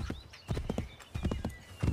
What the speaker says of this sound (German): Schön fährt das Pferd.